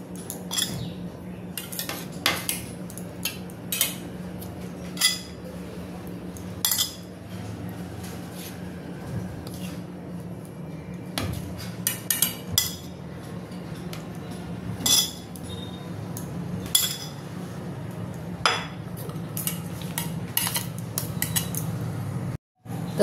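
A spoon scrapes and clinks against a bowl while boiled eggs are turned in a spice paste, with scattered sharp metallic taps and soft squishing, close and fairly quiet, no talk.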